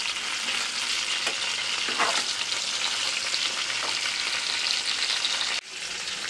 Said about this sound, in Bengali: মাছ ভাজাটা করছি